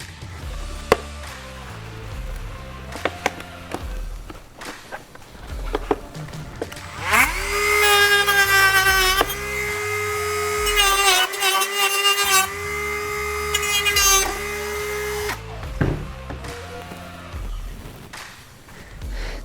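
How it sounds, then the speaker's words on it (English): Power drill boring holes through a MOLLE panel during a 4Runner/Tacoma driver and passenger door panel install, a loud sustained whine of about eight seconds in the middle, framed by quieter handling clicks and knocks. "We got our 4 holes drilled, 1, 2, 3, 4."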